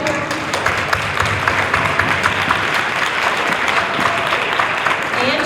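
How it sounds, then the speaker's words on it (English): Loud, close audience applause honors parents at a formal cotillion, a dense continuous burst of clapping that holds steady for several seconds. "Can we give the parents a round of applause?"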